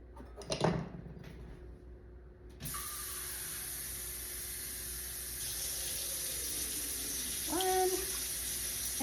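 Tap water runs steadily into a measuring cup, about one and a half cups for a recipe at a kitchen party, a continuous close hiss after a short clatter, with a brief voice near the end.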